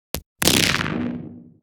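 Layered sci-fi weapon sound effect redesigned for Destiny 2: a brief sharp click, then a loud, bright blast that decays into a long, filtered, reverberant tail, with a small transient at the very end.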